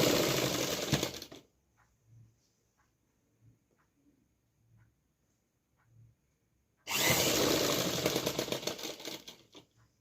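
Sewing machine stitching fabric for a suit, two loud bursts of rapid whirring stitching separated by a quiet pause with faint soft knocks.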